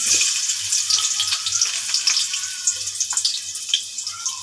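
Onion dropped into hot oil for a bottle gourd and prawn curry sizzles loudly and continuously, a bright crackling hiss with scattered pops throughout.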